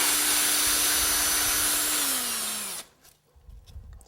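A drill spins a hole-cutting bit through styrofoam, a loud whirring grind with a steady tone that sags as the motor slows and then cuts off. Faint handling noises follow.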